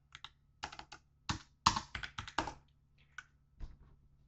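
Keys clatter on a computer keyboard as a short command is typed, coming in quick, close bursts of taps separated by brief pauses in a quiet room.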